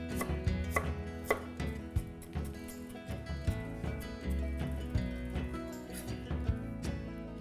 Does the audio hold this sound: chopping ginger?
yes